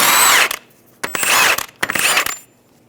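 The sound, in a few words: power tool removing axle nut with 30mm socket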